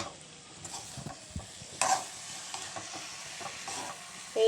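A spoon scrapes and stirs through tamarind pickle in a pan with soft sizzling, in a quiet run of irregular scraping strokes and small clinks.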